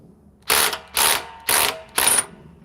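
A DeWalt XR DCF870 hydraulic impact driver on a 1.7 Ah power stack battery fires four short, loud rattling bursts, each about a third of a second, evenly spaced with brief pauses between and no talking.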